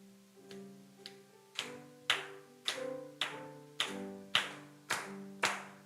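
A church congregation claps in steady rhythm along with a hymn, sharp evenly spaced claps about every half second over sustained sung or instrumental tones, fairly quiet overall.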